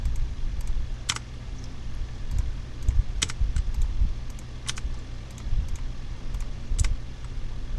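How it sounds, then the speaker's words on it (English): Computer keyboard keys are pressed in sharp clicks at irregular intervals over a constant low rumbling background. "Click left on the keyboard."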